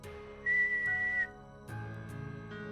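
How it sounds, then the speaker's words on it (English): A person whistles a few clear sustained tones, loud and close, with a long held note followed after a pause by a second wavering note, with no talking. "Can I whistle?"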